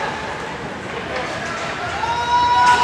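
A restless crowd murmurs and stirs at a high school hockey game, a steady broad din that swells toward the end, with a whistle-like tone sounding faintly near the close.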